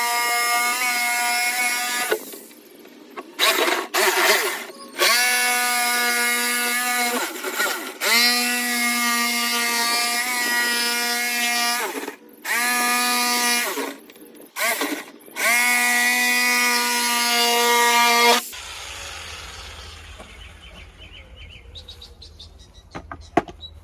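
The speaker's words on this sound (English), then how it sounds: "And then I'm going to use my saw to cut it all the way around." A power saw cuts around a plastic barrel being made into a raised bed, loud whining bursts with brief pauses between runs, then stops, leaving faint outdoor background and birds.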